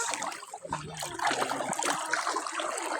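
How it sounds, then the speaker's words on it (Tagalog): Water flows and trickles at Balanga Falls, a continuous bright rushing wash with small splashes and dribbles, fairly close and steady throughout, with no clear talking. "Tubig."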